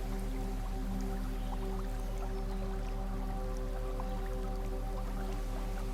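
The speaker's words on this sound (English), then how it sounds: "you will hear the gentle flow of water" Gentle water flowing in a small woodland stream, a continuous soft trickle with scattered drips and bubbling, steady and even throughout, with a faint low hum beneath and no voices.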